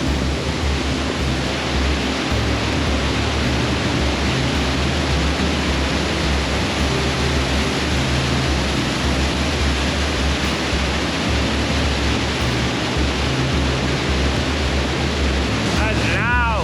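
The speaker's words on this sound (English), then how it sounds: "Can you believe we're doing yet another waterfall?" A constant, loud rush of falling water from a waterfall in Lauterbrunnen fills the whole stretch, dense and unbroken, with no clear voices above it.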